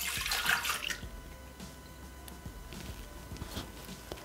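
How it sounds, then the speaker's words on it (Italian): Milk poured into a Thermomix jug, a brief splashy liquid rush at the start followed by quieter trickling and light clinks, close by with no talking. "Iniziamo la ricetta mettendo all'interno del boccale il latte."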